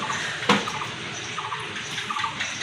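Water is poured into a trough for cattle on a bull-fattening farm, a soft trickling splash with a brief louder gush near the start and faint liquid patter afterward.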